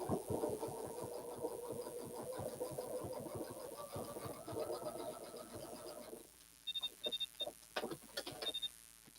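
A sewing machine runs a long, fairly narrow zigzag stitch over couched yarn, a steady rapid mechanical chatter for about six seconds before stopping, followed by a few faint clicks and light handling noises.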